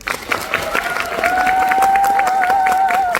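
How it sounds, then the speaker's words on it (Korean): Theater audience applauding at the closing-night curtain call of the musical Via Air Mail: dense, steady clapping that swells and holds loud throughout, with a sustained high tone ringing over it. "박수 한번 주세요"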